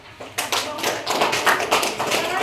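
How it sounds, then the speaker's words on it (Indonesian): Schoolchildren in a classroom clap together in a lively burst, a dense patter of small hands with uneven rhythm, close and moderately loud, with voices mixed in. "Tepuk tangan dulu lah."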